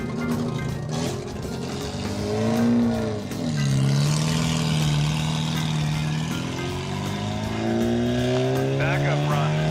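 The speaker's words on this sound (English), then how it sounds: "Backup run for Skip Carlson in the 1138 car. Running against the 125 record" A land speed race car makes a backup record run, its engine a sustained roar that rises and shifts in pitch as it accelerates, heard under continuous announcer commentary.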